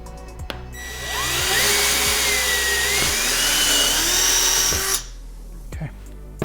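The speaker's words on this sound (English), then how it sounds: "you need your 15/64 drill bit, you need your drill" A power drill fitted with a 15/64 bit bores a hole in a fishing kayak, whining steadily at close range for about four seconds before stopping, with faint clicks around it.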